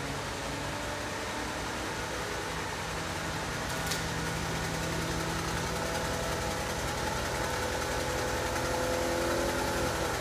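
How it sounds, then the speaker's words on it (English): A 1966 Lincoln Continental convertible works its power top, giving a steady mechanical hum with motor whine and faint vibration that holds evenly at close range throughout. "now we got the convertible top doing what it's supposed to do"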